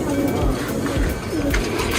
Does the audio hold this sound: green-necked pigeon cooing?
yes